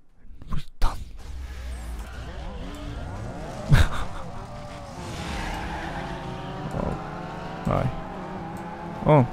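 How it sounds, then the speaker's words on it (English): Tires squeal and skid through sweeping drifts in Need For Speed Underground 2, with a steady engine drone beneath and a few sharp louder bursts, while a player's voice talks over the racing. "Oh, I'm already drifting."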